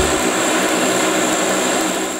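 Columbine II, a propeller airliner, lifting off with its piston engines in a loud, steady roar that fills the whole clip without a break.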